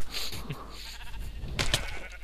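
A sheep in a video game bleats a few times, loud and close, with a sharper cry near the end and a background of game noise.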